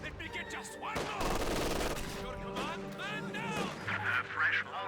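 Gunfire strikes a conscript squad in Company of Heroes 2, a dense burst of rapid shots and explosive cracks layered with battle noise and voices.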